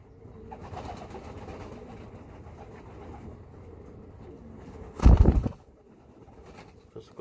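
Soft pigeon cooing murmurs in the background, broken by a loud burst of flapping wings midway before the coos settle back.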